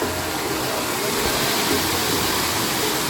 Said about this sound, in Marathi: दरवर्षी असतात कृत्रिम धबधबो असा त्यांनी बनवलेलो असा